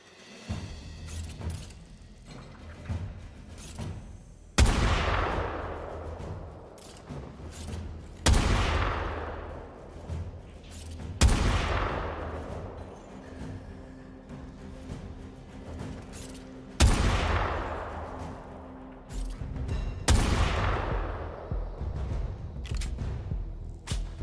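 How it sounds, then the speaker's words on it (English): Gunshots ring out while targets are shot in a Warframe marksmanship minigame, loud single reports spaced several seconds apart, each followed by a long decaying echo. "Time to test your marksmanship. Track and shoot all targets."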